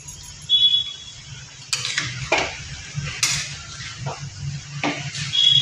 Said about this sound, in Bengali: এবার এর মধ্যে কাঁচা দুধ দিয়ে নিচ্ছি। দিয়ে একসাথে নেড়ে চেড়ে নিচ্ছি।